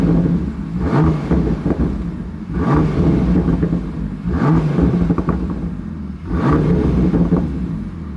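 A 2021 Bentley Continental GT Speed with an Akrapovic exhaust revs in sport mode, four loud surging blips in a steady rhythm, each swelling and falling back to a rumbling idle.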